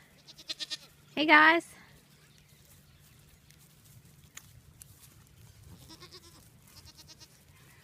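Goats bleat in a farm goat paddock, a loud, close cry followed by softer, farther bleats, with someone talking briefly at the start and later.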